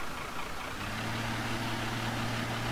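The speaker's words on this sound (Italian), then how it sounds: "mettiamo un attimo qui il trattore in strada" A tractor in a farming video game idles on the road, a steady low engine drone with a constant hum that holds evenly throughout, loud and close with no talk.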